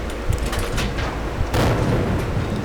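Tank cannon fire in a tank battle video game: dense booming blasts and rumbling impacts, with a heavier shot about halfway through that leaves a sustained low roar.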